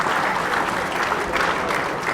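Dense, steady applause from an audience at a 2014 football league medal presentation night, a loud sustained wash of clapping across the whole moment with no talk over it.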